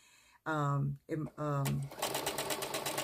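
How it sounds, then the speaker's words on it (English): A sewing machine stitching ribbon onto a loosely woven fabric table runner, a quick rhythmic mechanical chatter heard close after a person speaks briefly. "It's sewing very straight now, and it's not stretching with the fabric."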